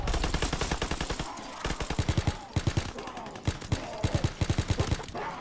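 Rapid machine gun fire in the WW2 Zombies video game, in loud, fast bursts of evenly spaced shots with short pauses between volleys, up front in the mix.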